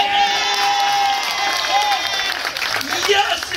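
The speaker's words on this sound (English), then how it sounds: "Please give a round of applause for all my contestants in the house!" Cheering and applause from an audience at a contestant game on board a Royal Caribbean cruise ship, a loud continuous wash of shouting, whoops and clapping that fills the whole stretch.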